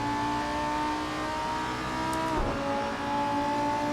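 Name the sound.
Lamborghini race car engine revving in sim racing game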